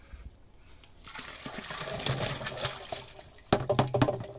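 Water sloshing and gushing as fertilizer (AmiOrgan and purified MAP) is stirred into roughly 30 liters of water in a tank, a continuous close splashing that swells into louder surges near the end, with no voices.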